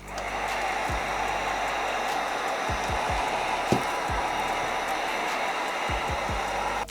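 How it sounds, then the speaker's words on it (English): Steady roar of a heat gun held close while heat-setting a temporary tattoo design on customized sneakers, a continuous airy hiss with a few soft low thumps and clicks underneath. "I'm gonna go back on my heat gun though and kind of heat set a lot of this right quick."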